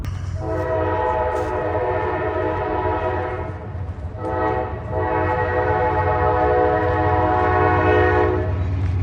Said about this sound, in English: As I arrive near City Hall, a train comes roaring through.